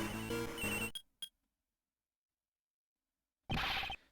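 Cell phones ring in the video game Ace Attorney Investigations 2: a dense, tonal ringing burst opens the moment, two short chirps follow, and after a long silence a second loud ringing burst returns, with no talk over it.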